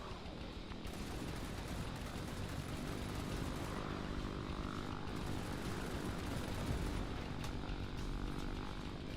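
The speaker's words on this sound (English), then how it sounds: "But I will say, like, the plane combat here is enjoyable." WW1 dogfight in the video game Over The Top: constant propeller aircraft engine drone with bursts of machine-gun fire, dense and steady throughout, no speech.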